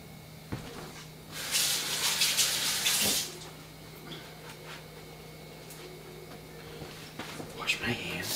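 Water runs from a kitchen tap for hand washing during snack preparation, a hissing gush of about two seconds, then a shorter burst near the end, with talking nearby.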